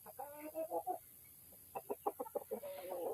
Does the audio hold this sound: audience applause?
no